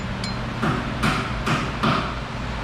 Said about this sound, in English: I'm going to apply some linear impacts with the hammer